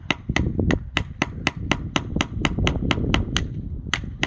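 A hammer strikes a screwdriver set against a geode, about fifteen sharp, ringing metallic blows at a steady, fairly quick pace, close by, with a brief pause near the end.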